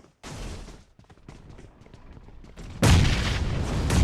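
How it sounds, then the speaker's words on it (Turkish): Bomb blasts and gunfire in an online shooter game: bursts of crackling shots, then a loud, close explosion with a long rumbling tail that fills the last second or so. "Bomba atıyorum, bomba atıyorum, bomba atıyorum"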